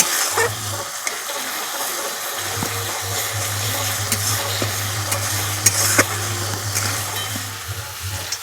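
Spice paste with salt, turmeric, a little sugar and chili powder frying in oil, close steady sizzling and scraping stirs over a low hum from a kitchen appliance.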